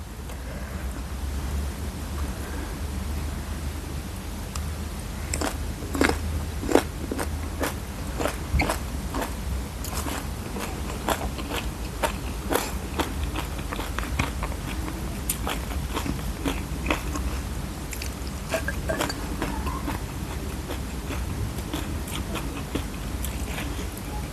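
Raw Thai sweet eggplant bitten and chewed alongside a spicy papaya salad with fermented fish: a run of close, crisp crunches and wet chewing, in an irregular rhythm through most of the stretch over a low steady background hum.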